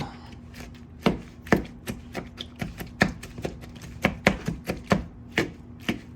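Blueberries are sliced with a paring knife on a cutting board, giving a steady series of crisp, close taps and chops in an irregular rhythm with no talk.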